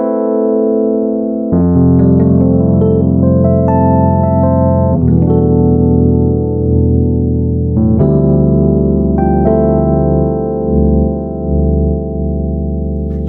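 A Rhodes MK8 electric piano with its equalizer boosted in the low end plays warm, sustained chords and notes with a heavy bass foundation, loud and close with no talking.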